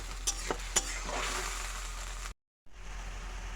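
Cumin, turmeric, dried chili and ginger paste fries in a pan for a jackfruit-seed fish curry, giving a steady close sizzle with a few sharp spatters early on, then a brief cut to silence before the frying resumes.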